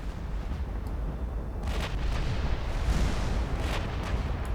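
Warship main guns firing at long range in Ultimate Admiral Dreadnought, a few deep booming blasts rolling over a rumbling, noisy background.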